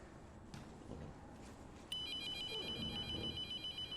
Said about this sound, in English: How is that phone ringing?